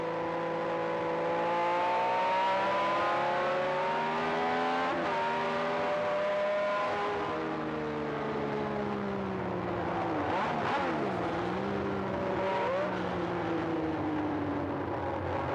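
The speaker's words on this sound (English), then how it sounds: "Sound of the Matra engine was just spectacular. It just sounded like power." A Matra Formula 1 race car engine screams at high revs, its harmonic whine rising and falling through gear changes and throttle lifts, loud and close throughout with no voices.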